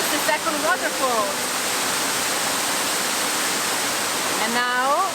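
Waterfall in an Ecuadorian cloud forest, a steady full rushing roar filling the whole clip, with birdsong chirps near the start and end.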